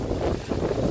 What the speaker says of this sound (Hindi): हवा ही इतनी तेज़ चल रही है